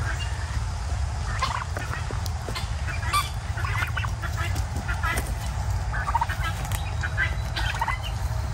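Pet turkeys gobble repeatedly in bursts over steady outdoor background noise, the calls close and fairly loud across the whole stretch.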